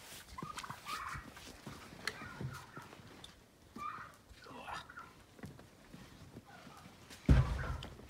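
Turkeys gobble and chatter softly in bursts, with faint rustling and a louder knock near the end.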